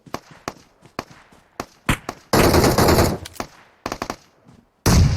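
Rapid bursts of gunfire in PUBG Mobile crackle in quick succession, with single sharp shots scattered around a sustained loud volley in the middle.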